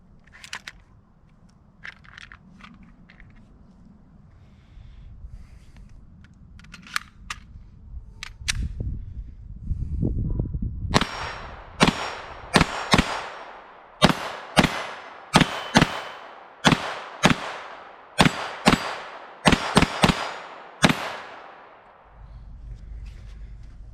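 A Glock 44 .22LR pistol fires CCI Stinger 32 grain rounds outdoors, about a dozen sharp, loud cracks in a steady string after a quiet lead-in with some handling noise.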